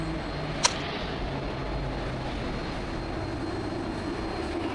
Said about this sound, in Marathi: आमची डेक्कनची ट्रेन आली.